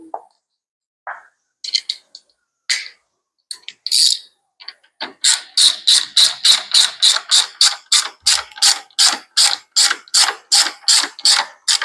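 A ratchet tightens bolts while a catch can is installed on a Harley performance touring motorcycle with floorboards: a few short clicks, then a fast steady run of about twenty close, loud ratcheting strokes.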